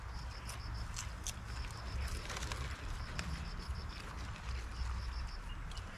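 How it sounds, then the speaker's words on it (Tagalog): Birds calling outdoors by a river, repeated short chirps and coos at middling distance over a steady bed of water and ambient noise. "Mga ibon."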